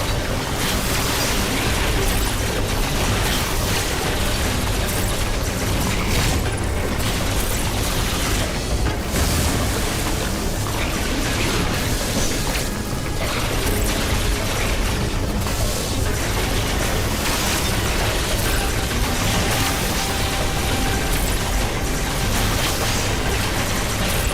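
Missile explosions and weapon fire in the video game Metroid Dread roar in a dense, continuous barrage of booming blasts. The rumble stays loud and unbroken throughout, with no speech.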